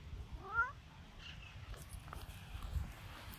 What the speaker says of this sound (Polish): Kot.